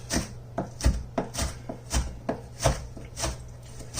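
A knife fine-chopping onion on a board, a run of crisp, evenly spaced close thuds, alone with no voices.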